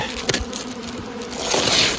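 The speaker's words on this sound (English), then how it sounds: "About 3 frames of bees." Honeybees in an opened hive during spring feeding fill the air with a dense, continuous buzz up close, swelling slightly toward the end, with faint knocks of frames beneath.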